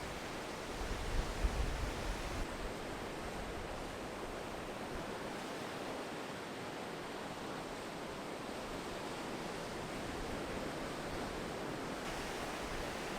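Ocean waves wash in and draw back, a soft, steady broadband rush of surf heard from a distance, continuous and faint with no voices.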